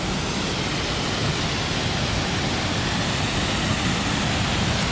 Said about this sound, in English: This is it, Big Niagara Falls.